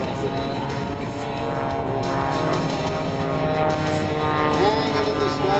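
An Extra 300 aerobatic propeller plane circles a hovering aerobatic aircraft during a 2010 Wings Over Pittsburgh air show, producing a loud, continuous droning propeller engine with rich harmonics that slowly shift in pitch.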